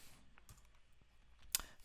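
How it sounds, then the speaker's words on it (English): Light, quick clicks of computer keyboard keys, quiet and close, with one sharper louder tap near the end and no talking. "if I hit Shift and start typing constructor"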